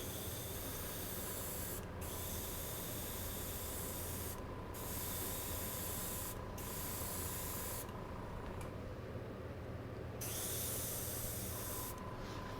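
Steady hiss of spray paint from an aerosol can onto a scale model panel, running continuously with a few brief pauses between passes, close and fairly quiet.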